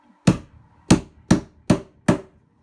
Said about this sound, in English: drive it in with the hammer